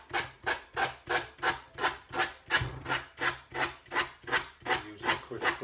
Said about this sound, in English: Use an acrylic block by holding the sandpaper around this acrylic block.